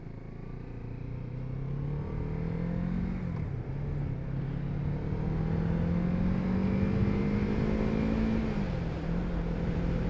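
Kawasaki Z650RS 50th Anniversary Edition motorcycle accelerating hard down a road, engine note climbing through the gears with a brief dip at a shift, steady and fairly loud with wind noise throughout.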